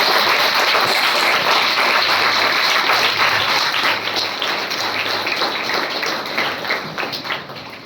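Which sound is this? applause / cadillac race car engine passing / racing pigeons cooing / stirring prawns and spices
applause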